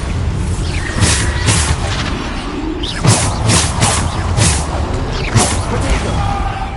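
Bombarda spell explosions in the Hogwarts Legacy video game, a string of loud booming blasts with whooshing bursts every second or so over a dense, rumbling battle background.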